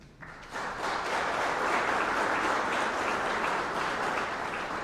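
Audience applause at a county economic development partnership appreciation event, a steady broadband wash of many hands clapping that swells in quickly and holds loud and even throughout.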